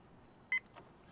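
A kitchen timer set for camp cooking gives a single short electronic beep, faint and brief, against quiet outdoor background.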